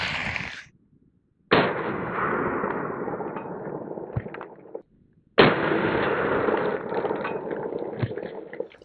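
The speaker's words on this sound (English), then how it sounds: "Next up, we have some 230 grain 45 ACP Federal ball stuff coming out of a Glock 21 with the OSS can on there." A suppressed Glock 21 fires 230 grain .45 ACP Federal ball rounds at a mask: two sharp muffled reports at close range, each followed by a long decaying rumble, separated by near silence.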